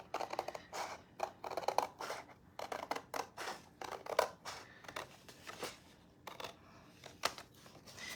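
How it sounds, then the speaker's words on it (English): Scissors snip steadily through dried, sturdy paper at a craft table, a close series of quick crisp cuts coming in bursts with short pauses between them. "I'm going to end up cutting this out as well since it's already dry"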